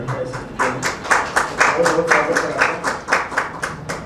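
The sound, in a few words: audience applause welcoming a guest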